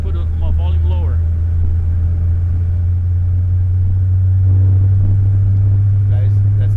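A deep, steady roar of a GE90 jet engine spooling up on a Boeing 777 fills the cabin, loud and constant, while people talk over it.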